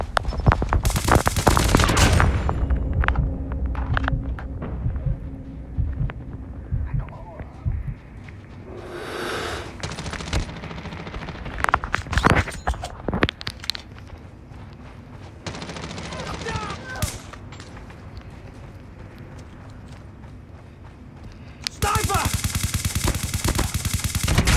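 Gunfire in the mobile shooter game Call of Duty Mobile, dense bursts of automatic weapon fire and scattered single shots rattling almost continuously, with loud volleys at the start and end and voices talking over the action.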